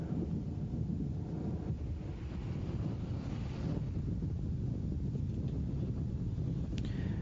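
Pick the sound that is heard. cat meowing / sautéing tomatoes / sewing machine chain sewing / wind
wind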